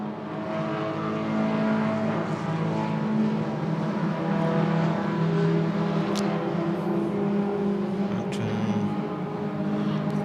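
Race cars at speed on track at Queensland Raceway, a loud, continuous engine roar throughout, with a car passing near the middle and engine pitch shifting as cars run toward a turn.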